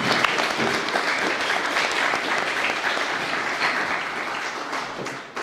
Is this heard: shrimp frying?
no